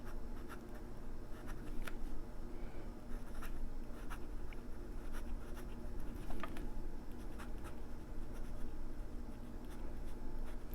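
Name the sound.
writing with Sheaffer Imperial IV fountain pen, nib down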